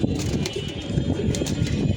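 Pigeons cooing in soft, repeated low calls close by, with a faint breeze around them as cold wind and rain clouds gather.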